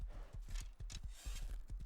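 Horse hooves clip-clop in the survival game Rust, a quick steady gallop rhythm of repeated thuds close by, with no talking over it.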